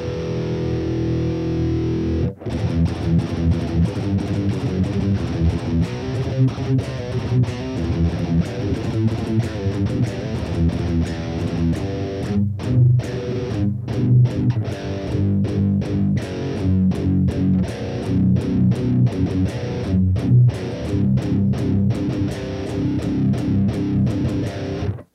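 Electric guitar through an overdrive pedal with the distortion dialed down and the volume turned up, playing loud, continuous chords and riffs with a gritty, crunchy edge and no talking.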